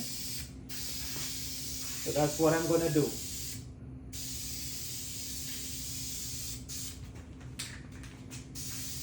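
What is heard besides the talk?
spray paint can spraying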